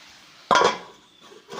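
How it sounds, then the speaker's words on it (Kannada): A metal lid clanks once onto a pan of vegetable palya, a sharp close clink with a faint rattle after it and otherwise a quiet kitchen. "ಇವಾಗ ಇದನ್ನು ಮುಚ್ಚಿ 1 ನಿಮಿಷ ಬಿಡ್ತೀನಿ ರೀ"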